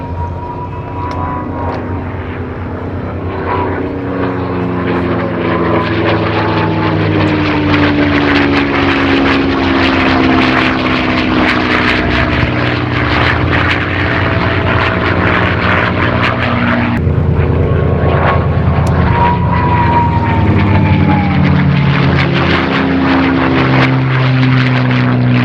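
A P-51 Mustang propeller fighter roars past at an airshow, its loud, steady engine drone sustained throughout with pitch slowly sliding as it passes, alone without talk.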